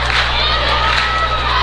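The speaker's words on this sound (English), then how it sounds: "See, now the Central Rebel fans are now getting on their feet, getting loud." Basketball fans in a packed North County gym at a district championship game between Farmington and Central, a steady loud crowd roar with cheering voices throughout, close and dense.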